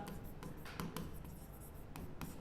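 Pen or pencil scratching out math answers on paper in a tenth-grade polynomials lesson, steady close strokes with small taps, heard alone without talk.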